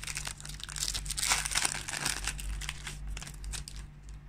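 Foil Pokémon card booster pack from a Gallade V tin being torn open, a steady run of close, crisp crinkling and ripping of the wrapper with no talk.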